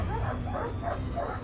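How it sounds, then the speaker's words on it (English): A pack of dogs barks and yips in a dense, overlapping chorus, loud and close, continuous over the short span with whimpering mixed in. "a pack of dogs suddenly arrived and protected him"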